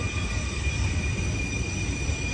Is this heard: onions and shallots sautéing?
no